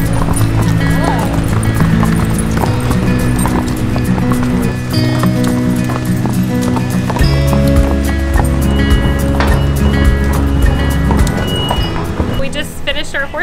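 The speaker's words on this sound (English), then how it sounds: "We just finished our horse walk." Horses on a walk at a theme park's Highland stables, hooves clip-clopping in a steady, continuous rhythm close by, loud throughout with ambient noise beneath.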